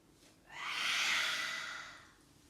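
A single slow, airy breath during Nauli kriya yoga practice, swelling softly and fading over about two seconds, close and quiet with no speech.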